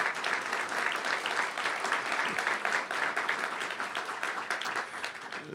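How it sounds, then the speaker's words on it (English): Press conference audience applauding an archbishop at a church families event, a full round of clapping from a sizable room, steady and fairly loud, with individual claps audible and tapering slightly near the end. "Please give a big round of applause to our Archbishop and the great work that he is doing."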